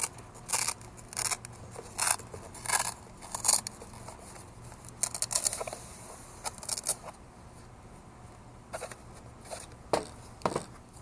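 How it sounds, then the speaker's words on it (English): Velcro strips are peeled apart during electrical work on a cafe racer motorcycle build, giving a series of short, crisp ripping bursts spaced irregularly over the clip, fairly close and alone without any talk. "Now peel off the velcro."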